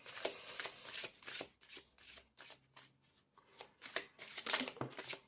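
Cards being handled, laid out and flipped over one by one, with close, quiet rustling, sliding and slapping sounds arriving in quick irregular bursts.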